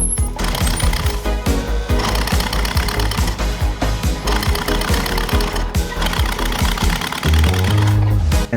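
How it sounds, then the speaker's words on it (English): A Toyota Prius hybrid engine cranks over during a compression test with the gas pedal floored, giving a fast, loud, steady rhythmic churning pulse right up close for several seconds before it shifts tone near the end. "You have to put your foot all the way to the floor on the gas pedal for it to crank the motor over."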